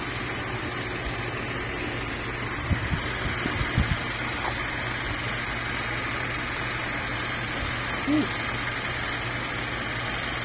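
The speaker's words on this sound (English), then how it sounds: "the car should be on a level surface, which it is, in park, idling" A 2017 Buick Regal sits in park with its engine idling: a steady low hum under faint background noise, with a few soft clicks and knocks near the car and no talk.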